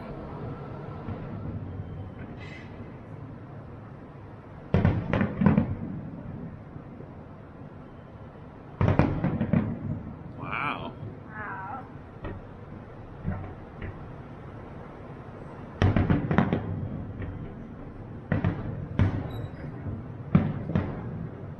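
Fireworks bursting at night over the ocean off Oahu, seen from a hotel room, with several separate clusters of loud, sharp booms and crackles spaced by quieter gaps, and a brief exclamation from a nearby voice.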